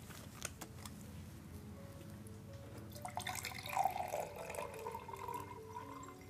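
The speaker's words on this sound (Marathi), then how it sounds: "आणि त्याच्यामध्ये आपण पाणी घेऊया." Water poured into a drinking glass for a classroom air-pressure experiment, a quiet steady trickle that swells into a brighter splashing stream partway through, with no voices.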